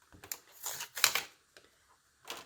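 A Cricut cutting machine unloads its cutting mat with a few quiet clicks and short mechanical whirs, brief bursts separated by pauses, faint and close by.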